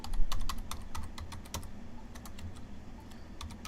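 Keys clatter on a computer keyboard in quick, uneven bursts as a username goes into a traffic signal controller login, each press crisp and close against a faint room hum.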